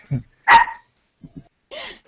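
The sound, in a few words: dog barking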